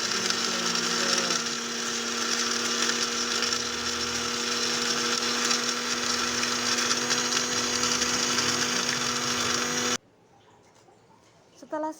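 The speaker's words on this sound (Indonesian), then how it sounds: "Setelah itu kita siapkan dan siap untuk di blender." A food blender blends spices and oil for a grilled chicken marinade, running continuously with a loud, high whirring for about ten seconds, then stops, leaving quiet with a brief clatter at the end.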